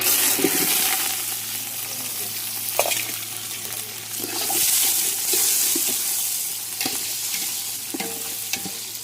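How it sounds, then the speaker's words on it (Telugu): Onion and curry leaves fry in hot oil while being stirred, a continuous loud sizzle broken by scraping stir strokes, with no talking. "ఉల్లిపాయ కరివేపాకు వేసుకున్నాను"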